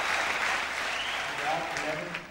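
A crowd applauds at a 1993 men's squash Super Series Finals match, a sustained wash of clapping that fades slightly toward the end.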